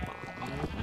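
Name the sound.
sheep bleating in video game Minecraft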